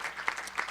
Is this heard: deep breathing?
no